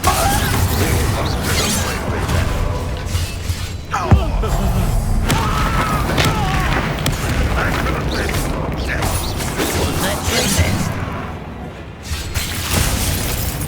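Incendio and Accio spells are cast in the Hogwarts Legacy video game, a dense loud mix of magical whooshes, mechanical clanks and impact booms during combat, with a voice calling out over the effects.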